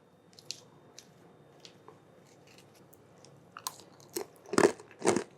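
Greek yogurt topped with granola is eaten up close: a few soft crunches and wet, squishy chewing sounds grow louder toward the end, with quiet spoon clinks and no talking.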